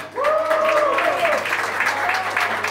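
A studio audience applauds during a televised Spanish music competition show, with steady clapping and cheering that starts abruptly and holds at an even, loud level throughout while an announcer's voice carries over it.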